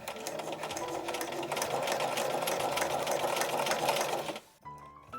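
A sewing machine runs steadily for about four and a half seconds, stitching a garment's facing and tacked-on collar along the neckline, then stops abruptly, leaving a few faint handling sounds.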